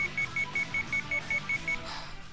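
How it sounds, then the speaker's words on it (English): A rapid, regular alarm beeps from the video game Sweet Fuse: At Your Side, ringing loud and steady in short repeating pulses over a low backdrop before it breaks off near the end. "Just want the beeping, loud beeping to stop."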